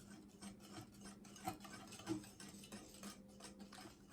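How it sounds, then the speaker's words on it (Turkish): Utensil stirring cream cheese, sugar and egg yolk together in a bowl for a cheesecake, light scraping and clinking taps at an irregular pace, fairly faint and close, with no talking. "şimdi içine bir tane yumurta sarısı ekliyorum. Ve güzelce karıştırıyorum"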